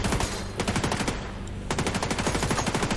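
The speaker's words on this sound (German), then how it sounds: "Hör auf zu schießen." Rapid automatic weapon fire in the video game The Division 2, loud sustained bursts of shots with a short pause midway before the firing resumes.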